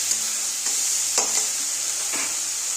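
Eggplant with salt and turmeric fries in oil, a steady loud sizzle with several spaced scraping stirs of a spatula through the pan.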